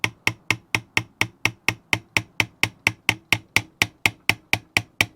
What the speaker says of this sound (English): with a gentle persuasion with a hammer I'm just going to ease that through